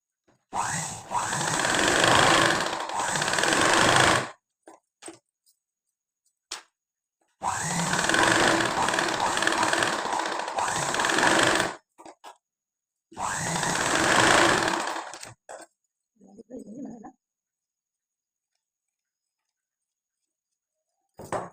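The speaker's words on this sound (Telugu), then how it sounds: "ఇప్పుడు ఇలా అనేసి మనం స్టిచ్ చేసుకోవాలి" A sewing machine stitches a sari-cloth blouse piece in three sustained bursts of whirring, each a few seconds long with short quiet pauses between, close and clear with no talk.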